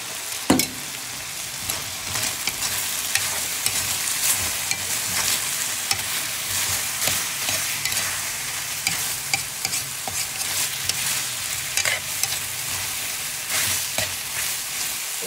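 Menudo ingredients stir-fry in hot oil in a pan, a continuous close sizzle broken by frequent scraping and stirring clatters of a utensil, with no talk.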